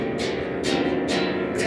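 A harp guitar strummed loosely and at random, ringing chords repeating roughly every half second, close and full, with no talking.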